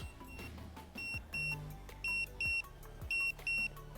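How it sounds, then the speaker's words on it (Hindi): A smart tracker's electronic alarm chirps in repeated short high-pitched beeps, grouped in pairs with brief gaps, loud and close over a low background hum. "तो as you can see alarm बजना शुरू हो गया"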